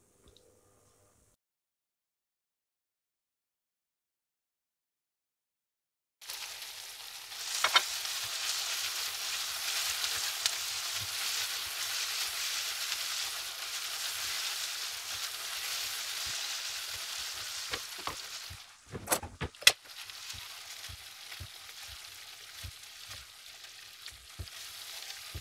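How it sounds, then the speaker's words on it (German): Spätzle sizzle steadily as they fry in a pan, a dense continuous crackle after a silent start, with a few louder clatters and scrapes near the end. "Und hier brutzel ich noch ein bisschen weiter meine Spätzle."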